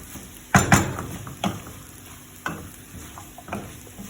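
Bitter gourd stir-fried with mushroom and egg in a pan, with a soft sizzle beneath a few sharp scrapes and clacks of a spatula, spaced unevenly and close by.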